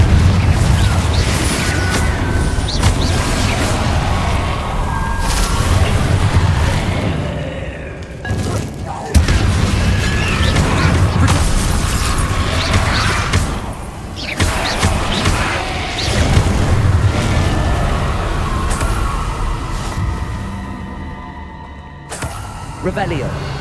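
Confringo fire spells bursting against Inferi during combat in Hogwarts Legacy, a dense run of booms, crashes and thuds with game music and effects nearly throughout, a short drop near the middle and a quieter tail at the end.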